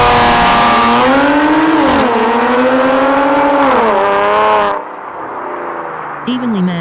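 A Kia Stinger GT and an Audi S4 race side by side, their engines roaring loudly under hard acceleration with pitch climbing through the gears before the sound cuts off abruptly.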